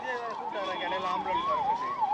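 An ambulance siren wails nearby, its pitch sweeping up and down in a steady repeating cycle, loud and continuous over background street noise with people talking.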